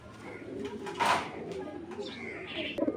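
Pigeons coo softly in a loft of racing birds, including red checker pairs, with low throaty calls repeating under a voice and faint rustling.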